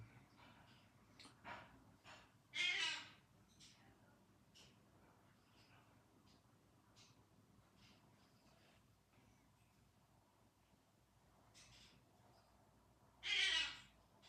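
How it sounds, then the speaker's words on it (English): A pet bird calls twice indoors, each time with a short, breathy, hoarse burst that attempts a greeting. The two calls are about ten seconds apart, with faint room noise between them. "That's Tiki bird"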